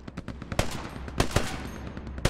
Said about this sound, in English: Oh shit, he's firing.